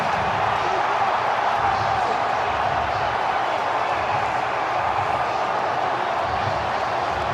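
Cleveland Browns stadium crowd roars steadily after a Nick Chubb touchdown run, a dense, continuous wash of cheering that holds at the same level throughout with no pauses.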